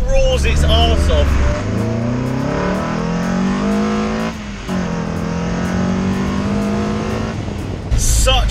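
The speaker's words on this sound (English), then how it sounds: "it has that fantastic engine that absolutely roars its arse off" A Ford Escort van fitted with an RS2000 engine revs hard and loud up close, climbing through several gear changes with dips between them as it pulls away. A voice is heard over the engine.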